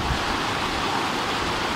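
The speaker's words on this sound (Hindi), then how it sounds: "पुल के नीचे से पानी बिल्कुल आबशार की तरह आ रहा है और पानी का शोर आप सुन रहे हैं" Water pours under a bridge like a waterfall in hilly country near Attock, a constant broadband roar heard loud and close without any speech.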